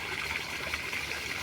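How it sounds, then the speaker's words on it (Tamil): Water flows steadily into a garden of coconut palms and plants, a soft continuous rush and trickle at moderate distance with no talk over it. "தண்ணி பாயுது தோட்டத்துக்கு,"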